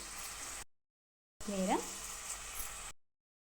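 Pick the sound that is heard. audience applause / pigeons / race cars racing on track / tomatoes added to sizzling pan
tomatoes added to sizzling pan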